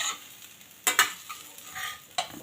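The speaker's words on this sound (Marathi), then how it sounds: "एक 2 ते 3 मिनटं याला आपण छान परतून घ्यायचं आहे. याला खूप अगदी सावकाश आपण ह्याला हलवणार आहोत" Jowar muthiya pieces are gently turned with a spatula in a pan of tempering with sesame, ajwain and coriander, giving a few soft scraping strokes over a quiet, steady sizzle.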